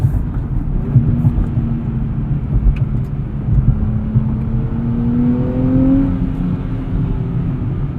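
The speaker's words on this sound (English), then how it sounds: "Hear that 3-liter V6 sing." 2023 Nissan Z with a 3-liter V6 and manual transmission revs loudly and close, its engine tone climbing and holding through steady acceleration.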